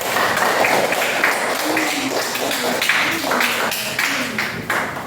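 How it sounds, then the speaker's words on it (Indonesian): A classroom of students claps together, a busy patter of hands at close range, with voices mixed in under the clapping. "Kasih tepuk tangan buat kita semua."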